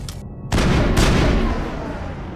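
Explosions in the video game Mass Effect: a heavy boom hits, quickly followed by a second blast, and both roll off into a fading rumble.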